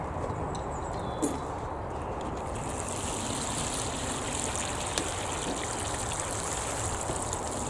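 Garden plants given a thorough watering: a steady, close hiss and trickle of water runs continuously, fairly loud, with no voices.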